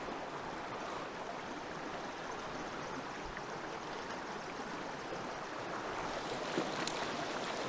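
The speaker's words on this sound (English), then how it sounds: "I don't know that I'm going to be able to fish this creek today. It might be just flowing too fast." A fast-flowing trout creek running high, a steady, loud broadband rush of water close by that holds constant throughout with no talk over it.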